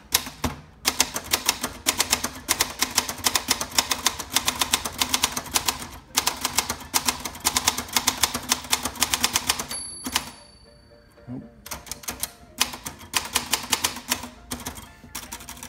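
Crisp, rapid key clicks from a 1964 Olympia SF manual typewriter, typed in steady bursts with a brief pause near the middle and a small bell-like ding before typing resumes.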